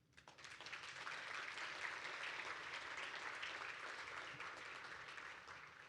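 Steady applause from an audience, a continuous patter of many hands clapping, fairly distant and quiet, holding evenly for several seconds.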